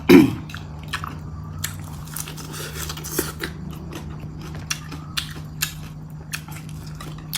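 Crunchy grilled beef tendon being chewed close to the mic, with a sharp bite at the start followed by a steady series of small crisp crunches over a low background hum.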